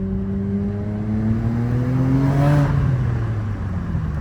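A Nissan Skyline R34 GTR fitted with a custom titanium exhaust drives past outside, its engine note rising as it accelerates with a smooth whirring tone, heard up close and loud.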